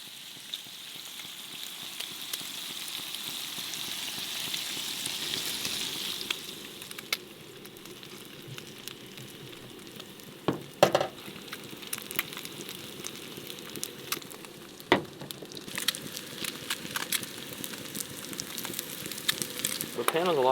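Breakfast food sizzles in a hot pan over a campfire in the woods, a soft, steady crackling hiss with scattered pops and a few sharp knocks, heard from close by with brief voices in the background.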